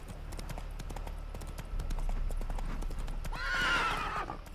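The horse Roach in the video game The Witcher 3, with steady clip-clopping hooves throughout, then a loud neigh rising over the footfalls near the end.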